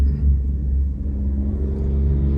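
A big truck passing by outdoors, a steady low engine rumble and whir holding close and loud throughout with no voices.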